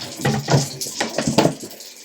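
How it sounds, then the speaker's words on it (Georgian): Tap water pouring into a bottle, a close gurgling rush in uneven bursts that swell and ease over about two seconds, with no talking. "იგივე ბოთლში ავავსებ."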